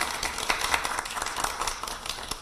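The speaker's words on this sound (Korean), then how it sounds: "힘찬 박수 부탁드립니다" Applause at a political party press event on capital market policy: a crowd claps steadily in a dense, moderate patter without a voice over it.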